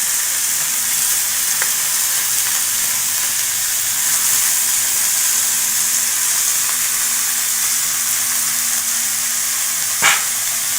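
Potatoes frying in a wok produce a continuous close sizzle and hiss, with occasional faint scrapes and a brief sharp clink toward the end.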